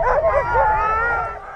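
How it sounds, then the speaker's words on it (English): Sled dogs yelp and howl together as teams hook up in a parking lot before a race, a brief dense burst of overlapping wavering cries. "As teams hook up, the barking is echoing across the lot."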